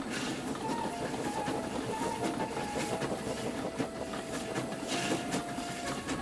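A train runs along rails in a steady rumbling roll with faint clicks and a thin high squeal, heard from on board throughout.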